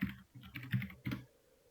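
Computer keyboard typing with three short clusters of keystrokes, quiet and close, with no one talking.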